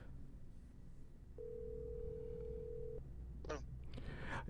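A phone call goes out and a single steady ringback tone sounds for about a second and a half, clear over faint background hiss, followed by a couple of brief rustling bursts.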